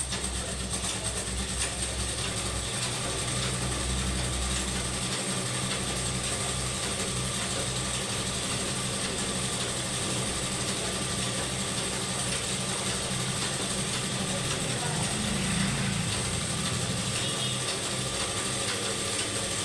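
A sewing machine stitching salwar pants runs steadily, giving a continuous loud mechanical whir and rattle with no pauses and no talking.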